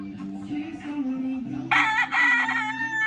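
A large gamefowl rooster crows loudly and close by, a single drawn-out call that bursts in halfway through, following a stretch of low murmuring and clucking.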